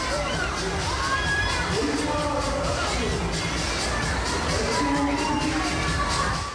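Dense funfair crowd at the St Denis fair in Dreux, a steady roar of many voices with children shouting and occasional cheers, close and loud throughout.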